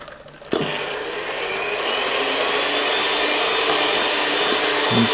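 An electric mixer whisking meringue mixture of egg whites and sugar switches on sharply and runs as a loud, continuous motor whir with a churning hiss, steady throughout with no talking.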